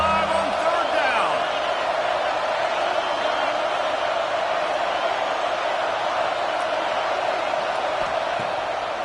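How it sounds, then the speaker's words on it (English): Ohio State Buckeyes football stadium crowd roaring on third down, a steady, dense wall of cheering and noise sustained throughout at a distance, with no distinct pauses. "The Buckeye crowd alive on 3rd down."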